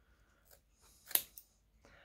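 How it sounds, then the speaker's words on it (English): Scissors snipping through a doll's hair, a single sharp cut with a smaller follow-up snip, close and fairly quiet, with faint handling noise around it. "do I need some bigger scissors for this? Yeah, it's cut along here."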